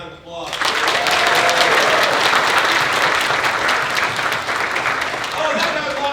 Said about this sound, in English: give Jimmy a round of applause